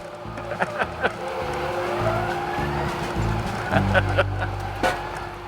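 Solar-panel electric ride-on lawn mower driven across a large site, with a steady motor and fan whine plus rumbling and bumps, and people talking and exclaiming over it.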